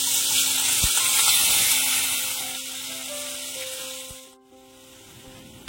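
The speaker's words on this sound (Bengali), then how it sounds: "থোড়গুলোকে তেলের সাথে খুব ভালো করে নাড়াচাড়া করে নেব" Boiled banana stem pieces stirred in hot oil for a Bengali vegetarian thor ghonto, a soft hissing sizzle that fades partway through, with a few wooden knocks and a sustained metallic ringing tone.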